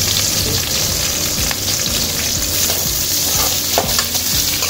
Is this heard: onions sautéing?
yes